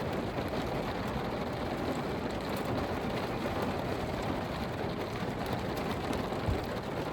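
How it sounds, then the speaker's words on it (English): Steady rain falls outside, a dense, even hiss of drops with no breaks, moderately loud and alone with no talking. "we've got rain"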